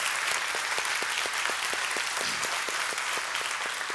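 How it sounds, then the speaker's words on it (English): Steady applause from an audience at a community event honoring a leader, a dense even wash of many hands clapping throughout, with faint sharper claps standing out in a loose rhythm. "Let's give Eric a round of applause."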